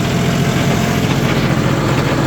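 A farm tractor's engine idles with a steady, loud low rumble and vibration, running evenly and near, with no talk over it.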